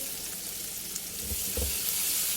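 Pounded chili and garlic paste stir-frying in a hot pan, a steady close hiss of sizzling oil with a couple of soft scraping stirs, no voices.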